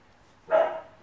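A single dog bark or yelp rings out once, fairly close and moderately loud, over a quiet background with no talking.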